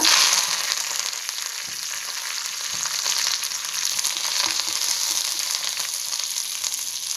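Fenugreek seeds, mustard seeds and curry leaves fry in hot oil for a vatta fish pickle, producing a loud, continuous close sizzle with scattered faint pops and crackles and no voices.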